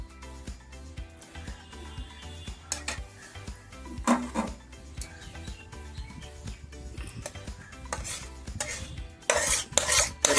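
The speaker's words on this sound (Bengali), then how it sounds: "এই দেখুন এইভাবে আমি থালার মধ্যে ঢেলে দেবো" Cooked mango pulp for aamsotto is poured and scraped from a pan onto a plate, with soft, uneven utensil scrapes and light clinks that build to louder scraping at the end.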